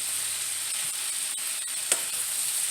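Vegan stuffed cabbage filling sizzles steadily in a pan, a close, even frying hiss that runs throughout, with a few faint scrapes and one brief clink as it is stirred.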